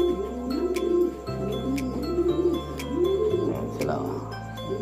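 Pigeons coo in repeated rolling phrases inside a racing loft, close and clear, over a low steady hum and a few sharp clicks.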